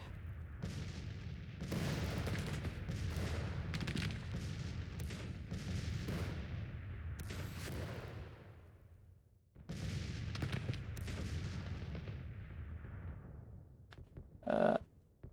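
Dense cannon and musket fire from a Civil War battle in the strategy game Grand Tactician: The Civil War, with steady rumbling booms and crackling volleys that rise and fall, a brief lull, then more firing.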